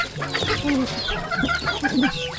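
A flock of chickens gathered to feed at a fishpond clucks busily and continuously nearby, with overlapping short calls.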